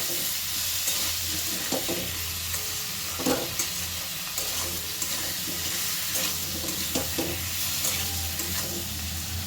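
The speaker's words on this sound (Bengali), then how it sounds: "খুব ভালো করে সব কিছু একসাথে নাড়াচাড়া করে মশলাটা আমি কষিয়ে নেব এই আলু ও ফুলকপির সাথে" Spices being stir-fried with potato and cauliflower pieces in oil, a continuous close sizzle with repeated scraping and stirring knocks at an uneven rhythm, no talking heard.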